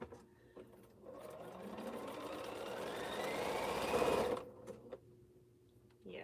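A sewing machine stitches quilt pieces in a steady, continuous run, its speed rising toward the end before it stops abruptly, with quiet pauses on either side.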